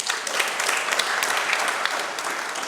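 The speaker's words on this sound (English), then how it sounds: "That is a big clap we should give to the Rwandese" An audience at a genocide forum session in Kigali bursts into steady, dense applause, a continuous wash of many clapping hands with no voices over it.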